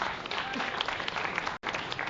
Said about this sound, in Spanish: También vamos a darle un aplauso a Shasni